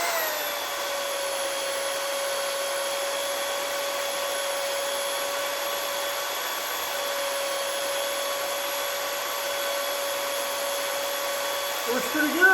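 An electric drill spinning a small tool in its chuck, a steady whining motor hum with high tonal overtones held for several seconds before a brief rattle at the end.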